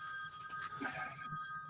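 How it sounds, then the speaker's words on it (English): A telephone rings faintly in the background, a thin electronic ringing tone held steady for the short stretch, with no talking over it. "I think that's Shane calling Doug to say, hey, turn off damn YouTube."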